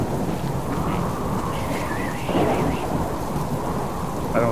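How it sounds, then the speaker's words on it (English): Wind and heavy rain roar in the survival game Subsistence, a continuous low rumble with gusting swells, while players talk faintly underneath. "I can't hear you over the wind and rain"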